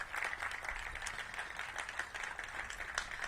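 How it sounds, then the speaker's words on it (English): Applause for former council member Frank Smith at a gallery headquarters opening with Mayor Bowser, a steady, dense patter of many hands clapping throughout, moderately distant and even in level. "Give Frank a big round of applause."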